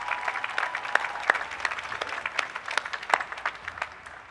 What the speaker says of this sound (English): It's worth clapping for.